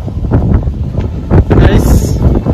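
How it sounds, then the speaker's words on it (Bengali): Strong wind gusts buffet the microphone on a rooftop under a cloudy sky, loud rumbling bursts rising and falling, with a voice speaking over part of it. "অনেক বাতাস ছাদে।"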